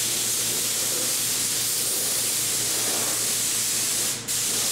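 Steady, loud hiss of a paint spray gun laying a coat onto an aircraft wing during metal finishing, continuous and close with no voices, briefly dipping near the end.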